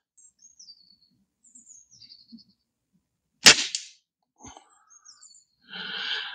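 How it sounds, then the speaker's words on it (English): TX200 springer air rifle firing at a 40-yard target outdoors, a single sharp close crack with a short thud after, surrounded by quiet birdsong chirps before and after. "Okay, so we're now going to shoot it at 40 yards."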